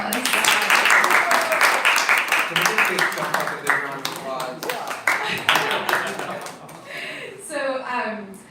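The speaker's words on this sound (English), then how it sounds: "let's give them a round of applause" A seated audience applauds the presenters of a Bhagavata Sravana class, the clapping loud at first and thinning out, with voices talking and murmuring over it toward the end.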